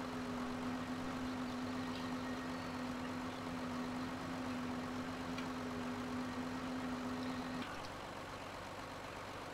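Tractor engine idling in the farming video game Farm Sim 2013, a steady low drone with a sustained hum that drops away near the end, no talking.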